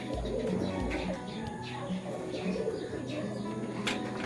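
A racing pigeon coos in low repeated phrases at a pigeon fanciers' loft, fairly close, under ongoing conversation and background noise.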